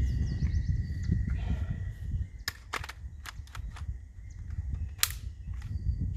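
An AR-15 rifle fires a string of sharp, cracking reports in an irregular run of quick shots over a steady outdoor background, fairly loud and close.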